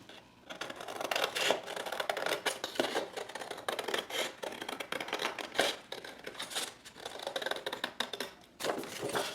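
Scissors cut through solid cardstock for a two-sided photo tag in a run of close, crisp snips and rasping strokes that repeat steadily for several seconds with no talk.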